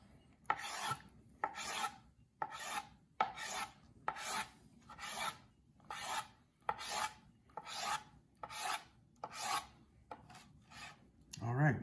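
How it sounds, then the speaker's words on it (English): A knife slicing food into thin slices on a cutting board, about a dozen evenly spaced rasping strokes, close and fairly quiet, with no voices. "what we wanna do is just cut these into thin slices"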